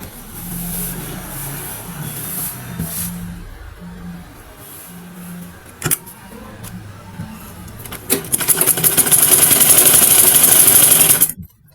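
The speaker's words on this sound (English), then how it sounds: "So I'm going to put the other belt in this side and I'll sew it down." A sewing machine runs a loud, close burst of stitching near the end as a belt is sewn onto wax print bubu fabric, after quieter handling and motor hum.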